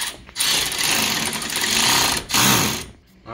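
An electric ratchet spins bolts into a Jeep Cherokee XJ thermostat housing, giving a steady buzzing whir in two short bursts with a brief dip between them, close and fairly loud.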